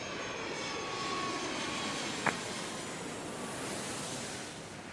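Airliner taking off from runway 8 right at Atlanta airport, a steady distant engine roar like rushing wind, with a brief faint click midway.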